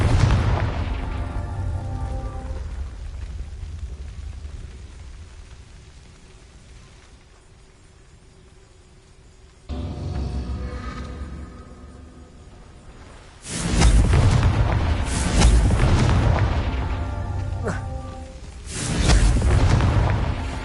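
A Confringo blasting spell explodes in a Hogwarts video game: a deep boom that decays into a rumble, a quieter lull, then a second burst, and finally a run of loud, heavy blasts near the end.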